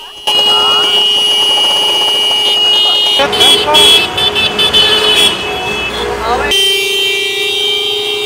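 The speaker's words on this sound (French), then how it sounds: "De nombreux conducteurs de la capitale ont été solidaires à ce mouvement, faisant ainsi retentir leurs klaxons." Car horns honk in protest across the capital, sustained tones sounding together near and far, steady and loud throughout, with a denser burst of overlapping honks in the middle.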